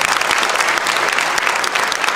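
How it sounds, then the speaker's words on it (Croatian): Audience at a concert featuring a large folk orchestra applauding, a dense, loud and continuous wash of many hands clapping together, steady throughout with no voices over it. "još jednom zaslužio još jedan veliki aplauz."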